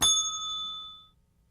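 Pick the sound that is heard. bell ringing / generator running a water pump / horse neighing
bell ringing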